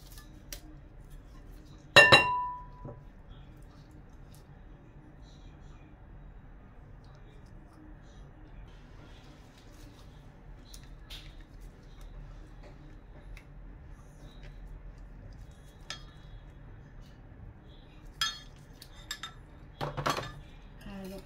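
Metal utensils clink against a bowl while broccoli is mixed with egg, a sharp clatter early on and a few scattered light taps later, with long quiet stretches between.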